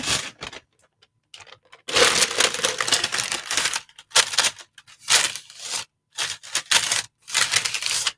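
Baking paper being crinkled and handled while preparing a sourdough loaf for a preheated oven, loud close bursts of crackling and rustling separated by short pauses.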